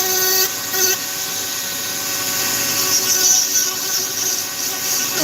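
A rotary tool with a fine burr carves poplar wood, giving a steady, loud, high-pitched whine with a grinding hiss that holds without a break.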